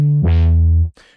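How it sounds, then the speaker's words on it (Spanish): A deep, sustained West Coast hip hop synth bass note made in FL Studio plays alone. It holds loud and steady for most of a second, then cuts off, leaving a brief faint tail. "les voy a enseñar cómo hacer un bajo muy típico del hip hop, sobre todo del estilo West Coast"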